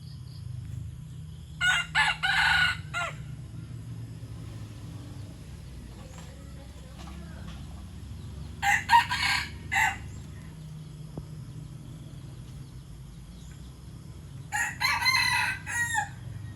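A white fighting rooster crows three times in separate drawn-out calls, fairly loud and near, over a steady low rumble of background noise.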